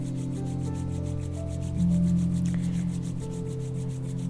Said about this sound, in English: Now we're going to rub the hands together and generate some heat.